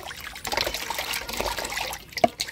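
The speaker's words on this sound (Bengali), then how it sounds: "মাছটা আগে ধুয়ে নিয়ে আসি" Water trickles and splashes unevenly while pieces of katla fish are washed by hand, close and fairly loud, with a brief clatter near the end.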